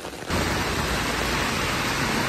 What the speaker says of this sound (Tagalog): Ang lakas na ng ulan, oh guys.